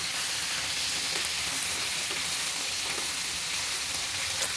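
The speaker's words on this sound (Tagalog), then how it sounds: "So, saglit na prito lang po yung gagawin natin." Steady hissing sizzle of meat frying in a hot pan, with faint crackles and pops throughout.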